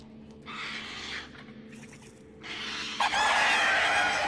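A cockatrice monster from The Witcher 3: Wild Hunt gives two loud, drawn-out rooster-like crowing calls, the second longer and rising into harsh screeching, with game ambience underneath.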